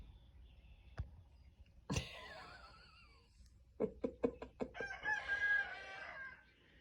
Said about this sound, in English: You wanna go get the rooster?